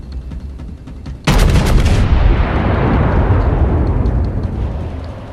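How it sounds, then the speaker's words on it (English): The battleship Texas in World of Warships fires a salvo from its two front gun turrets: one loud, sudden boom rolls into a long, heavy rumble that slowly fades, after a quieter stretch of background noise. "we will try to launch another salvo with our front 2 guns"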